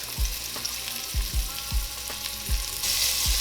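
Floured beef stew meat browning in a hot pan, a steady close sizzle broken by several dull knocks and thumps spaced through it.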